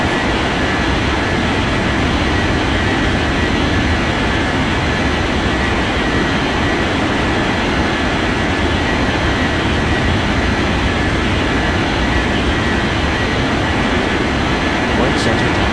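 An airliner takes off in the air traffic control game Unmatched Air Traffic Control, a loud, constant broadband engine roar lasting throughout, with radio voices talking over it.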